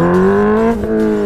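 A loud Honda Hornet motorcycle engine revs with rising pitch, dips briefly, then holds a steady roar; the bike is pulling away strangely. Close and continuous, no voices.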